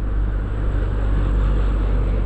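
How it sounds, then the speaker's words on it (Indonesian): A heavy car labours up a slope on a road between Cianjur and Sukabumi, its engine a constant low droning rumble, close and steady with no talk over it. "suara mesinnya aja ngeden begitu, dikasih nanjak sedikit"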